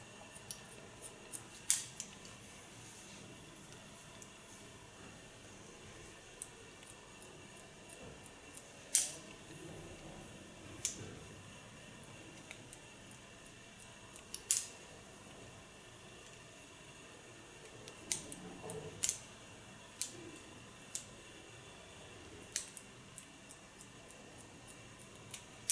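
Hairdressing scissors snip in short, crisp point cuts into lifted layers of hair, isolated clicks spaced irregularly over a quiet salon background with no talking.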